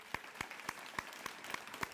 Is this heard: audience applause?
yes